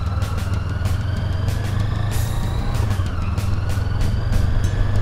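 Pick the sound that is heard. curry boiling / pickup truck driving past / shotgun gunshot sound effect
pickup truck driving past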